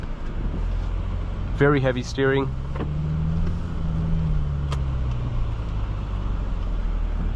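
A 2020 BMW Z4 sDrive30i M Sport roadster in Sport Plus mode gives a steady low engine and road drone throughout, with someone talking briefly over it near the start.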